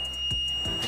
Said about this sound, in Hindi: जैसे हम शॉर्ट करेंगे तो ऐसा बीपिंग होगा